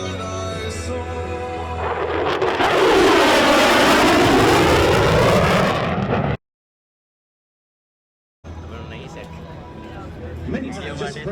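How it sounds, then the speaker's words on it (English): An F-16 Viper jet roars past very close during a dedication pass at the 2018 Rhode Island Air Show, its loud engine swelling and sweeping by with a Doppler shift before a sudden cut, then crowd noise and talk. "the F-16 Viper demonstration team proudly presents the dedication pass."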